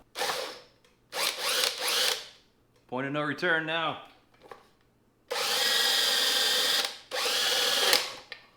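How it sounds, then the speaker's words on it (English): Loud bursts of a power drill with a hole saw grinding through plastic on a 1988 Honda Goldwing 1500 carburetor setup, several separate runs with pauses, and someone speaks briefly between them. "drilling that out with a hole saw right now"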